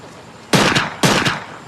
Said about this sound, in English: 2 deafening gunshots rang out